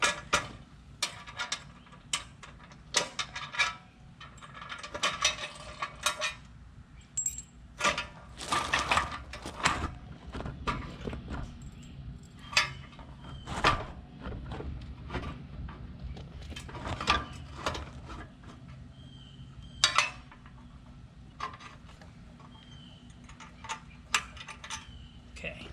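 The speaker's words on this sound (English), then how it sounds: "So I'm going to hook up the plow and show you that." A JRCO leaf plow being hitched up, with irregular metallic clinks, ticks and clunks of pins and a bolt going in, scattered over half a minute against a low background hum, fairly faint.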